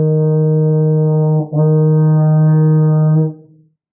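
Solo euphonium plays a closing phrase of sustained whole notes, two long, steady brass tones joined by a brief dip, close and loud, ending in a fading release into silence.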